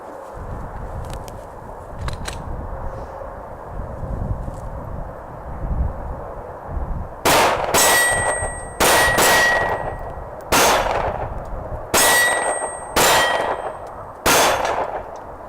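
Shots from a Glock 19 Gen 4 pistol on a range ring out as a rapid string of sharp cracks, about seven in quick succession, each followed by the bright metallic clang of a steel target, after a stretch of quiet background noise.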